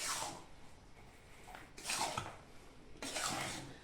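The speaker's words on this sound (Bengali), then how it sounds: "আবার আমায় নাড়তে হবে মশলাটা মেশাবার জন্য" Spices being stirred into jujube pickle in a pan, a utensil scraping and rubbing against the pan in three separate strokes, close and moderately quiet with pauses between.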